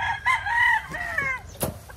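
A pure breed white Kelso rooster crows once nearby, a loud drawn-out call with a rising start and falling tail, followed by a short sharp noise from the farm pen.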